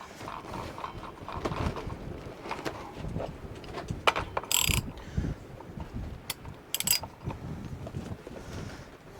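A reverse-thread lock nut is tightened by hand, with close metallic clicks, ratcheting ticks and clanks of tool on metal scattered irregularly over a low rumbling background.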